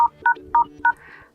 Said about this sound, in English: you need to open Phone Dialer, go to keypad